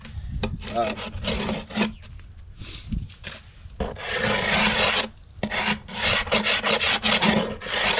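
Wooden beehive boxes being scraped clean, loud close rasping strokes of a tool dragged over wood in uneven bursts with brief pauses.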